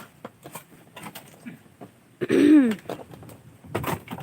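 Harsh coughing and throat clearing from a person irritated by heavy smoke from charcoal making on a coconut farm, a loud burst mid-clip amid quieter rustling and movement, with no talk.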